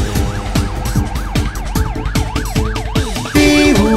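A cartoon police car siren wails in a children's song about a super police car, rising and falling loudly with a rhythmic beat and music throughout, ending on a sustained tone.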